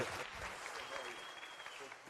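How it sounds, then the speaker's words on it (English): Brief burst of audience applause at a youth empowerment week session, dense clapping heard faintly and at a distance, with some voices mixed in. "Another round of applause."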